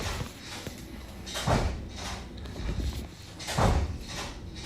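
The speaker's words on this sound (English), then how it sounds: "The door downstairs is opening and closing." A door downstairs opens and closes, giving two dull, muffled thumps a couple of seconds apart, somewhat distant, over a faint room hum.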